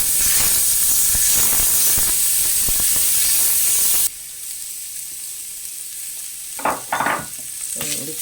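Grated ginger and garlic hit a hot pan for yellow rice, giving a loud, steady broadband sizzle and hiss for about four seconds, then the frying drops to a quieter crackle with a few brief clatters of stirring.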